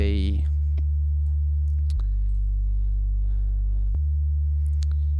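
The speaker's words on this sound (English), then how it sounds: "It's just a plain sine wave." A steady, pure low synthesizer sine tone drones throughout, with a faint higher harmonic, briefly shifting level twice; faint clicks sit in the background.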